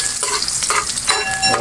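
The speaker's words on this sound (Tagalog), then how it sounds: "mainit na yung kawali. Gisa na tayo ng mga bawang natin." Garlic sautéing in a hot pan for tortang talong, a close, loud, crackling sizzle with brief scraping strokes of a spatula, no voices.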